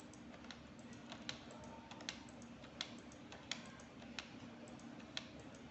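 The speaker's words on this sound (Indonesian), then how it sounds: "Tekan Ctrl pada keyboard." Typing on a computer keyboard, faint and steady, with soft irregular key clicks and a few sharper taps spread across several seconds, no voices present.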